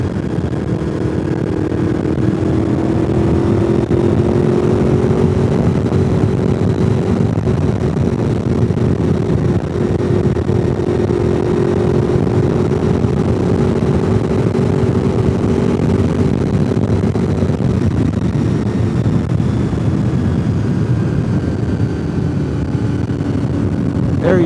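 Motorcycles riding along the Blue Ridge Parkway, a loud continuous engine drone with steady wind rush, heard from on the bike throughout with slight pitch shifts as the engine note changes.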